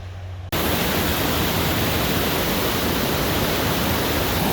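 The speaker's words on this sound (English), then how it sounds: "look at that waterfall" Waterfall at Beaver Brook Reservation on an urban hike, its water tinged yellow: a steady, loud broadband rush that cuts in abruptly after a brief quieter moment and then holds constant without pause.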